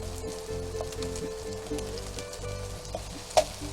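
Spam slices frying in a pan while being basted with teriyaki, a steady crackling sizzle with scraping stirs and a sharp clink near the end, no talking.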